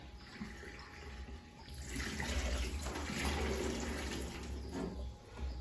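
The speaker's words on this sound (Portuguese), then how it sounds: "mas agora eu vou dar uma pré-lavada para cozinhar" Green chili peppers are rinsed under a running tap before cooking, with a steady stream of water that swells louder and fuller after the first couple of seconds and carries on alone.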